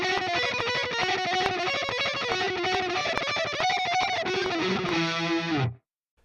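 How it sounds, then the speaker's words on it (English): A distorted electric guitar plays a fast lead line over a reference guitar part, a dense continuous run of rapid notes that cuts off abruptly near the end. "And now if I play the actual part over the reference guitar"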